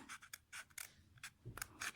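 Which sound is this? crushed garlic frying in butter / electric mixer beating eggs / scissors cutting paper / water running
scissors cutting paper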